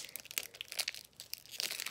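A Pokémon Go trainer box card pack wrapper is pulled and torn open by hand without scissors, giving quiet, close crinkling and crackling foil rustles in short irregular bursts.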